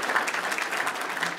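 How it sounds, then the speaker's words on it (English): A crowd gives a short, lively round of applause, many hands clapping densely at close range with a steady, even intensity and no voices over it. "let's give her a round of applause for that"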